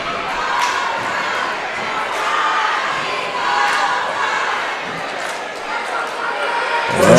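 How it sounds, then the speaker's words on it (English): A crowd at a high school girls' basketball game between Del City and Midwest City cheers and shouts loudly and continuously, with a commentator talking over the roar and occasional sharp bangs from the court. "The crowds are going at it."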